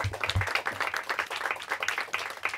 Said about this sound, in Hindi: तालियां हो जाए इनके लिए